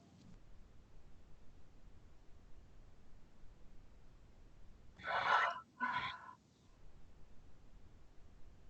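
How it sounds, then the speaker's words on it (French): Two deep breaths during a relaxation breathing exercise, a strong airy inhale followed by a second breath about a second later, close and clear against a quiet background hiss. "je vous invite maintenant à prendre 3 grandes respirations."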